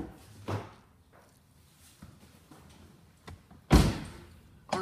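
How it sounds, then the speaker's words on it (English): Handling and opening the passenger door of a 2011 Land Rover: scattered clicks and light thumps over quiet background, then a louder latch clunk and door sound near the end, recorded close. "Now I'm going to open the passenger door."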